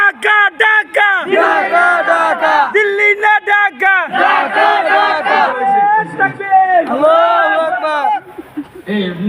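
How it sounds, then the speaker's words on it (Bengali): A large crowd chants the Takbir slogan in loud, rhythmic, repeated call-and-response shouts at a madrasa gathering, with the voices coming in strong pulsing bursts. "একটা স্লোগান দাও তো সময় হয়েছে নারে তাকবীর আল্লাহু"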